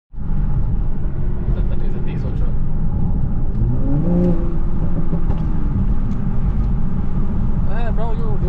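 A loud diesel truck or V8 engine roars close by and steadily, its pitch rising and falling as it revs past, with some talking faintly underneath.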